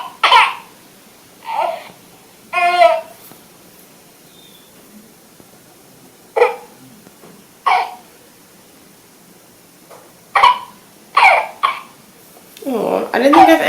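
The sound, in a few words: Realcare Reborn baby simulator doll coughing and spluttering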